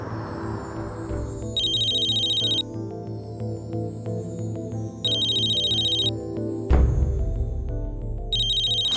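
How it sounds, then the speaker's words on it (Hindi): A phone ringtone sounds in repeated bursts with a bright electronic tone, alternating with a melodic musical background, moderately loud and clear, with no talk. "मैं जिग्नेश को फोन करती हूँ।"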